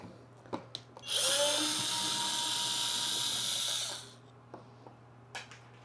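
A power drill removes screws from a Bambu 3D printer while a Sunlu AMS heater/dryer is being installed. One loud, steady whirring run lasts about three seconds, with a few light clicks and handling knocks before and after.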